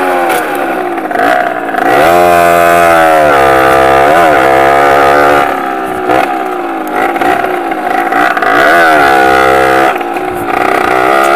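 A motorcycle engine runs loud and close while riding downhill, its pitch rising and falling steadily with throttle changes, with brief dips where the revs drop before climbing again.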